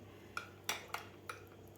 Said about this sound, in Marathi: सब्जा तो व्यवस्थित आपल्याला मिक्स करून घ्यायचा आहे